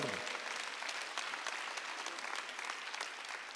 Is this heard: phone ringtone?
no